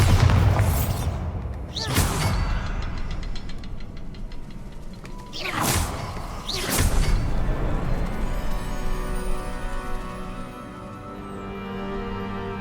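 Bombarda blasting spells from Hogwarts Legacy go off in four heavy booms, two close pairs spread over several seconds, each trailing into rumbling debris and a low lingering echo.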